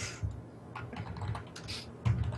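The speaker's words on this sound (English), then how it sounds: "Guarantee she's typing in Twitch." Keys tapped on a computer keyboard in quick, uneven bursts, close and fairly quiet, with brief pauses between clusters.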